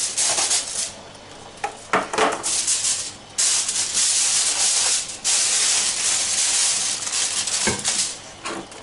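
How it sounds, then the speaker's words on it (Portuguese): Aluminium foil crinkled and pressed over a pot of salt cod stew, giving loud, continuous rustling and scraping with short pauses, close up and without talk. "colocamos papel alumínio por cima"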